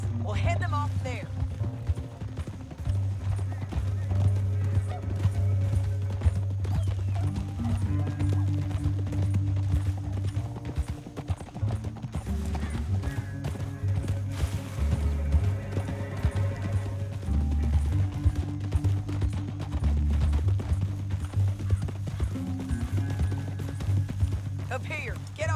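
Steady hoofbeats clatter throughout over a dense bed of music and rumble, with voices talking on top, from a horse in the video game Red Dead Redemption 2.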